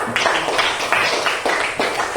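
Children in a classroom clap their hands in a few short, crisp bursts of several claps each, fairly close, with faint background chatter between them.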